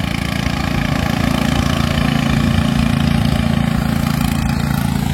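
A motorboat engine drones steadily and loudly as the boat passes close by on a river, a continuous mid-to-low buzzing with no talk over it.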